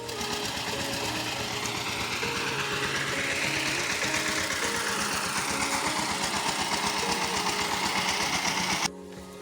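A tractor engine running in a flooded field, a steady, close, rhythmic mechanical chugging with a buzzing edge that continues evenly for several seconds and then cuts off abruptly near the end.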